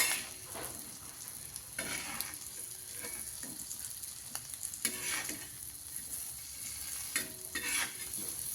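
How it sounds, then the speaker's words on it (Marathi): Boiled eggs being sautéed in a pan for egg curry: a spatula scrapes and stirs at irregular intervals over a continuous frying sizzle, close and moderately loud, with no voices. "आता अंडे असे परतून घेऊया जरा"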